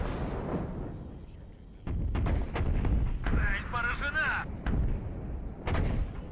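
Artillery fire in the WARNO war strategy game, several sharp booming shots and blasts going off in quick succession, with radio-style voices speaking between and over the impacts.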